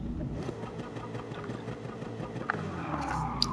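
Mid-engine Corvette in Gran Turismo 7 runs at a steady, moderate engine drone throughout, with a brief sharp transient midway and a slight swell near the end.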